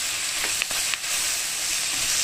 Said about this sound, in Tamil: வெங்காயம் வதங்கியிருக்கு நல்லா